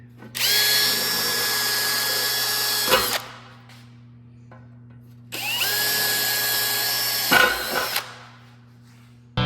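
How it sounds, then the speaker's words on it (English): Power drill boring through the corners of a custom car center console, two long loud whining runs of about three seconds each with a steady low hum in between. "I'm going to drill the corners"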